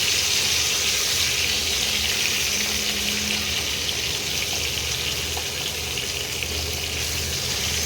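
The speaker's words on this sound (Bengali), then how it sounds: "আলুগুলোও একটু ভেজে নিচ্ছি। হালকা করে একটু ভেজে নিতে হবে।" Potatoes fry in a pan for an egg and potato curry, making a steady, loud, close sizzle that continues evenly throughout with no talking.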